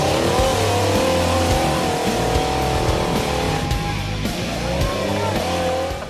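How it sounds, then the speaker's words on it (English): An off-road race vehicle revs its engine with throttle bursts, and the roar rises and falls close by against a busy, noisy background at a mud bogging and rock racing event. "A little more throttle action."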